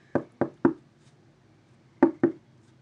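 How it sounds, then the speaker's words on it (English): A door is knocked on with a group of three firm raps, then a pause, then two more, loud and near against a quiet background. "you hear that knocking sound"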